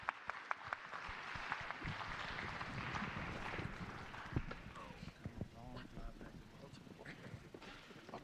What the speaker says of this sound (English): So let's clap it up for our reentry panel.